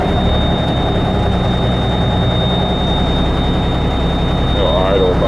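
Engine idling steadily at about 600 RPM, a continuous low rumble with a constant high whine running through it, close and loud throughout without change.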